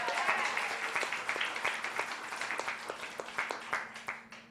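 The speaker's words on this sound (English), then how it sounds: "a big round of applause" Audience applause for a speaker, the founder of Ardella's House, at a justice and economic empowerment event: steady clapping from a crowd that thins and fades out over a few seconds.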